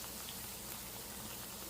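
Bread slices frying in hot oil for double ka meetha give a steady, close, even crackling sizzle throughout, with no talking over it.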